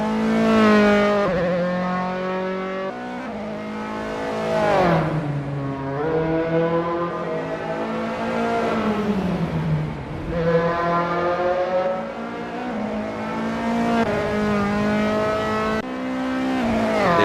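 A Dallara F312 race car on its out lap at Rattlesnake Point in Assetto Corsa, its engine droning loud and close, repeatedly rising in pitch through the gears and dropping back, with no talk over it.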